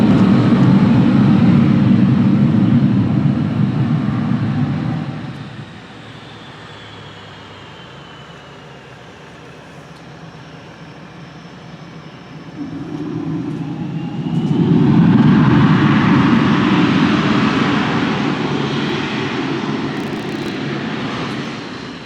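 Hornet jet backtracking along runway 09 during a Canada Day airshow, a loud broadband engine roar that fades to a distant rumble mid-clip, then swells back up close as it passes again.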